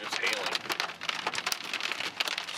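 Big hail pelts down during a storm in northwest Kansas near Lutz, a dense, irregular rattle of sharp impacts drumming on a vehicle, with voices briefly audible over it.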